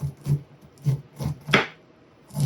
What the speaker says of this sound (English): you come back with the back side of the knife